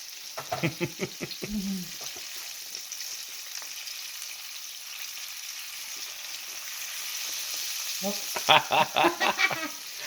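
A bullfrog caught from a roadside ditch fries in a skillet, giving a constant sizzling hiss with crackles and spits. Someone talks over the frying near the start and again at the end.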